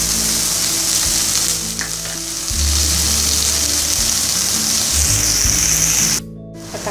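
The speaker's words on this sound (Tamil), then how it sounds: "தக்காளி போட்டு நல்லா வதக்கிக்கலாம்" Tomatoes sauté with onion and turmeric in a pan for a Tamil soya kurma, a loud steady close sizzle and hiss with a low hum underneath, cutting off sharply near the end.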